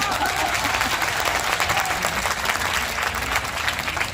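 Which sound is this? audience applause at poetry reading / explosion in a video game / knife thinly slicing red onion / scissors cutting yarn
audience applause at poetry reading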